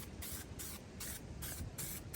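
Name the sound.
spray paint can spraying over rust on truck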